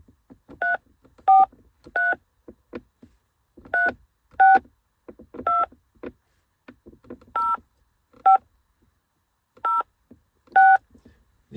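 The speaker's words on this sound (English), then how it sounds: "Let's dial a number on the handset." Touch-tone DTMF keypad beeps from the factory car phone handset in a Mitsubishi 3000GT, about a dozen short, clear tones in uneven groups with quiet gaps between them and no talking.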